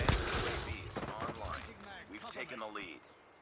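Sharp gunfire bursts ring out in Call of Duty: Mobile, loudest at the very start, with scattered shots continuing beneath a talking voice.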